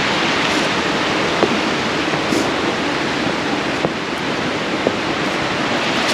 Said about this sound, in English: that is really a big creek down there